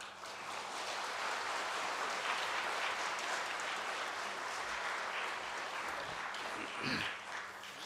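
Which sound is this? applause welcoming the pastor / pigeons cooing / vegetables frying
applause welcoming the pastor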